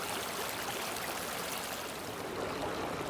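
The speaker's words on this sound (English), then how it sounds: "Beautiful little swimming hole here." A stream flows into a small swimming hole on a frigid early morning, a steady close wash of rushing water that continues unchanged and alone throughout.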